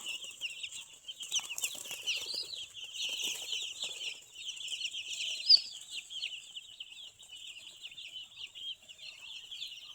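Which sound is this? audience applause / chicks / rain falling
chicks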